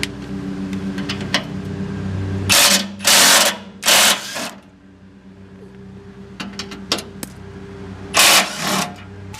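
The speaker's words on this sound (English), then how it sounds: "I've got my Ryobi drill here with a 1/2 inch nut driver on it." A Ryobi cordless drill fitted with a 1/2 inch nut driver runs in three short, loud bursts while taking guard bolts off the underside of a 2007 Toyota FJ Cruiser, with a low steady hum between the bursts.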